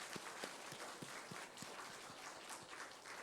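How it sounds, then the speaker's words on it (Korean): A church congregation applauding together during a Korean worship service, a steady wash of many hands clapping at once, fairly even and sustained for the whole stretch, with no clear talk over it. "감사와 영광의 박수를 올려드리겠습니다."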